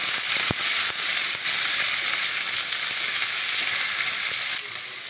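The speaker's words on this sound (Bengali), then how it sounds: "প্রথমে একটু জিরে ফোড়ন দিয়ে দিলাম আর তেজপাতা, পেঁয়াজ কুচিগুলো দিয়ে" Cumin seeds, bay leaf and chopped onion fry in hot goat fat with a loud, dense, continuous sizzle and crackle close by, with a few sharper pops and a slight drop in intensity near the end; no talking.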